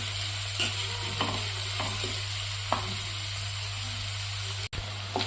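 Onions fry over a high gas flame in a pan for restaurant-style matar paneer, with a steady sizzle and hiss broken by repeated scraping stirs, close and fairly loud, without talking.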